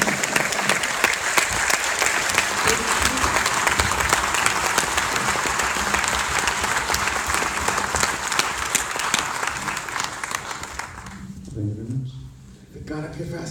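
A large audience at a Q&A for the film I, Tonya claps loudly and steadily for about eleven seconds, then the applause thins out and a voice speaks near the end.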